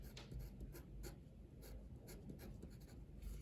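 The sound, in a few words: drawing a molecule while writing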